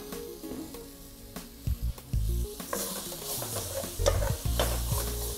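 Beef shank and onion sizzle and fry in a saucepan, with stirring and scraping around the pan; the frying grows louder and busier after the ingredients go in, with no talking.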